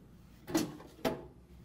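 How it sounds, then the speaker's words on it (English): Waste toner drawer of a KIP C7800 wide-format printer being opened, two quick plastic slide-and-clunk sounds about half a second apart, close and clear in a quiet room. "We're going to start by opening the waste toner drawer"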